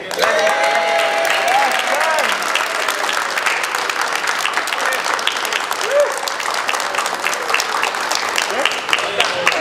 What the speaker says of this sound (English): Okay, and clapping.